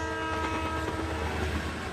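A train sounds a long, steady horn blast as it approaches, loud and sustained over a low rumble of rolling cars.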